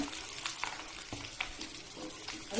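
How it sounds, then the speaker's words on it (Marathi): Crushed mustard seeds with red chilli, salt, garlic, asafoetida and turmeric sizzle in hot oil, a steady close frying hiss with scattered pops and crackles, moderately quiet and without talk. "ठेचून घेतलेली मोहरी लाल तिखट आहे मीठ आहे लसूण हिंग हळद आणि जरासा गोड मोहरी तेलामध्ये टाकूया"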